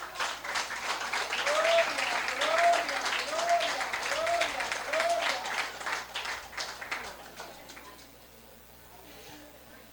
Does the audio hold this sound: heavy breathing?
no